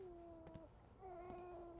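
A squeaky cat in the game We Happy Few gives two short, high, thin meows, one after the other, over a steady low background hum.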